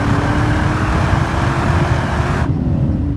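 A 2000 Pontiac Firehawk with a 5.7 V8 and six-speed pulls with a loud, steady engine roar, more motor than exhaust, heard from inside the car before the sound cuts off sharply near the end.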